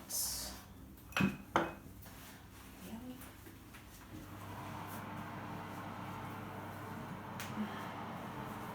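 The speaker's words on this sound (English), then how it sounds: "I'm going to get my pan out." A metal baking pan for sourdough bread is pulled out in a quiet kitchen, giving two sharp clanks about a second apart, then a faint steady hum under low room noise.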